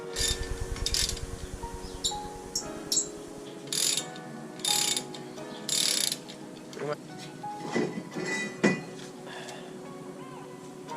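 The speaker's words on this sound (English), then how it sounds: "when you screw it in through these holes, the bolt pushes against this little hub" Bolt being threaded into a car brake rotor to push it off the hub, heard as a rapid ratcheting tool buzz followed by metallic clinks and clanks of parts being handled nearby.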